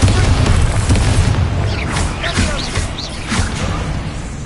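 A Bombarda blasting spell goes off in Hogwarts Legacy, a loud booming explosion layered with whooshing magical effects and crashing debris, steady and dense throughout.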